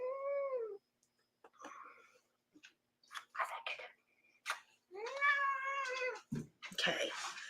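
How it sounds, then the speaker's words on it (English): A house cat meows several times, with long drawn-out cries and shorter calls separated by pauses, close and clear, with soft whispery voices in between. "Matt, this is my cat. You cannot steal my cat"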